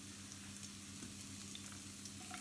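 Onions frying in pans while cooking a quick chili, a soft, continuous sizzle with a low steady hum underneath and no talking.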